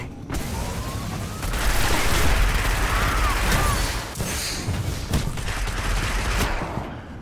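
Rapid gunfire crackles through a first-person shooter match in the Destiny beta Crucible mode, with dense bursts and booms that swell and fade over several seconds amid game effects.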